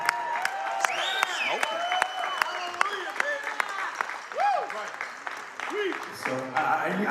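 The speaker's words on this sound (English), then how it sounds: "I think we should give God a big round of applause tonight" A crowd at an evening gathering breaks into applause and cheering, with scattered sharp claps and shouted voices rising over the clapping throughout.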